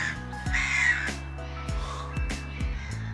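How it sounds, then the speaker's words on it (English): Seagulls calling outdoors during grey, rough weather, several harsh cries rising and falling over a steady low background drone. "Seagulls."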